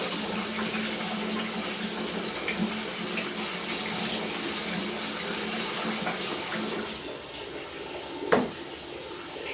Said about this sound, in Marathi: बाथरूममध्ये सुद्धा नळ चालू आहे, बादलीमध्ये पाणी जमा होत आहे